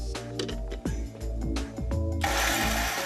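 Roasted short-grain rice and grated coconut are ground into a coarse powder in a Sri Lankan kitchen, heard as a loud, close electric grinder whirring in surges and stops, then rising into a harsh continuous roar.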